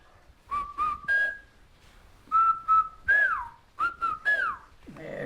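A whistled language carries speech-like phrases in clear, bright whistles, several sliding and steady tones grouped into short bursts separated by pauses, loud and close with no spoken voice.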